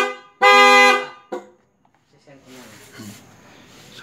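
A GPS tracker alarm on a Honda Click 125 scooter sounds its horn in one loud, steady blast lasting about half a second, then a short second toot, followed by quiet clicks and nearby talking.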